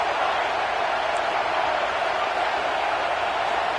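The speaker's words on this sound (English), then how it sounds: "Listen to this crowd just shaking the girders of this place, trying to help their defense." A football stadium crowd at a college game roars for the defense, a dense, unbroken wall of loud noise holding steady from start to finish.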